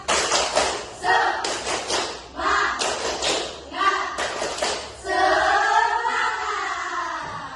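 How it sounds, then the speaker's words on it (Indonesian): A school class performing the tepuk semangat clapping chant, rhythmic bursts of group clapping alternating with children chanting together, then a teacher's voice speaking. "Yuk, tepuk semangat."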